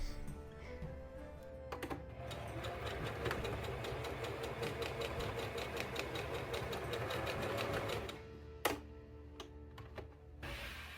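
A sewing machine runs in a steady, fast rhythmic hum as it stitches a ribbon boning channel down a corset seam, stopping around eight seconds, followed by a few sharp clicks and taps.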